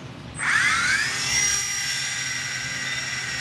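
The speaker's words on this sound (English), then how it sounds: "It's a really nice little helicopter." An E-Flite Blade micro CX RC helicopter spins up with a high, whining rotor tone that rises sharply and then settles into a steady, close buzz.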